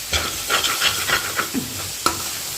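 Cabbage and peas sabzi being stirred in a pan, with a few close scraping strokes over a soft sizzle and no talking.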